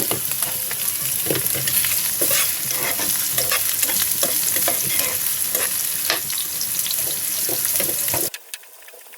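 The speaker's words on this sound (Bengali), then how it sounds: "দুটো এলাচি দিয়ে দিচ্ছি ছয় সাত টুকরা দারুচিনি দিয়ে দিচ্ছি" Cardamom pods and cinnamon pieces fry in oil in a pan while cooking tripe, a loud continuous sizzle with crackles and stirring clatter, cutting off abruptly near the end.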